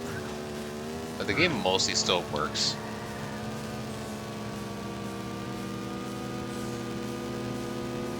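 A racing game running as a PS2 prototype plays a steady droning car engine with faint crackling static beneath it, while someone speaks briefly over the first part.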